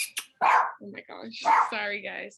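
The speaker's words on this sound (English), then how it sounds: "sorry, that's my dog." A pet dog barks sharply twice at close range in the background of an online meeting, each bark a short loud yelp, while a person talks between and over the barks.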